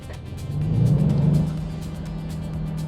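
A Volvo VNL truck engine in American Truck Simulator drones steadily at a low pitch, swelling briefly louder as it revs, then settling back into an even hum with no talk.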